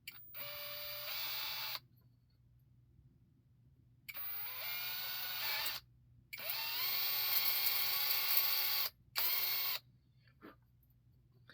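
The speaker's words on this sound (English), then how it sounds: "we got to drill out these holes here." A power drill whirs in several bursts of a few seconds each, drilling out holes in a lightsaber prop, separated by short silences, loud and close with a rising whine as it bites.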